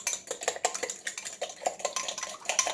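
Utensil stirring cracked eggs in a bowl while cooking a Thanksgiving meal, a quick run of light metallic clinks and scrapes repeating unevenly at close range, with no voices.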